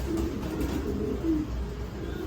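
Fancy pigeons coo in low, soft, rolling murmurs, close by and repeated, over a steady background rumble.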